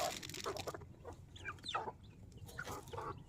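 Chickens cluck steadily while being fed rice and chicken feed, with overlapping clucks and short calls close by in a continuous farmyard scene.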